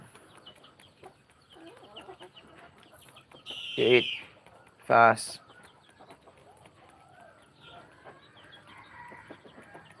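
Two loud, close clucking calls from a wild bird that feeds alongside chickens, one near the middle and another a second later, over quiet outdoor background, with someone talking briefly.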